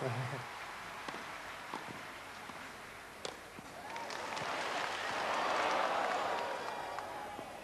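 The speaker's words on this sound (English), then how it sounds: "he's rightly applauded by his opponent" Crowd applause at a tennis match, starting as scattered claps and swelling into a broad, sustained wash of clapping from a large audience after a long point, with no talk over it.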